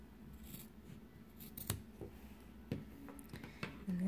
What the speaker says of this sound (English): cut through that.